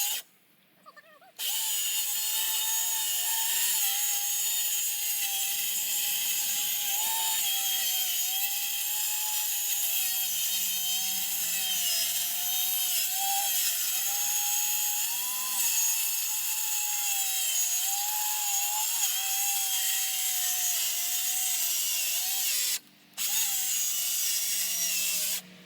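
A handheld power saw, battery-driven and set just deep enough to pass through, cuts a piece of plywood while building a 10x16 storage shed on a concrete slab, a steady loud whine running for about 20 seconds with a brief stop near the end.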